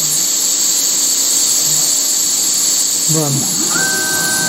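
A Carvera Air desktop CNC machine runs with a steady high-pitched whine over a constant hiss. A short whirring movement sound comes near the end, and a voice speaks a single word.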